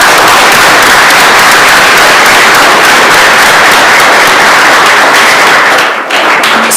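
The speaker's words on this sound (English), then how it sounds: "That needs a clap." Audience applause for a panel of five female attorneys seated on the bench at an appeals court anniversary event, a dense, steady roar of clapping that stays loud throughout, dipping briefly near the end.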